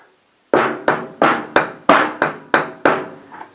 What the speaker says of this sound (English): You're just going to hit this axle enough to tap it through.